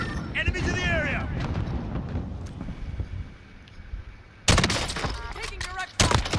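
Gunfire in Call of Duty Warzone, heavy bursts of shooting, with loud sharp blasts near the end, over constant background battle noise while players talk over it.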